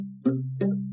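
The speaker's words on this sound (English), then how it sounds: "if you put your hand just on the edge of the strings here where they're coming off at the bridge, you can mute it a little bit" A palm-muted guitar chord strummed with a pick, two short dampened strokes with a clipped attack and subdued ring; close, quiet and without talking.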